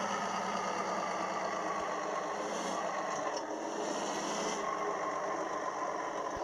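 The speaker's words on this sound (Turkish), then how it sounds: "Motoru falan motor sesi çok hoşuma gidiyor arkadaşlar" A car engine idles steadily with a continuous low rumble and hum, unchanging in level throughout, with no voices.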